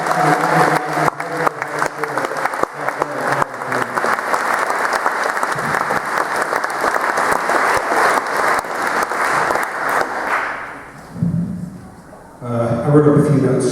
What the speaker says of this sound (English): Ladies and gentlemen, let's give Peter Sellers a loud round of applause.